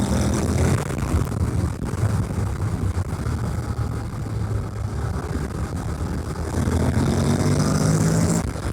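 A 2026 Honda NC750X DCT motorcycle engine pulls from low revs, a steady loud drone with rushing wind noise over a continuous rumble and a slight rise in pitch near the end.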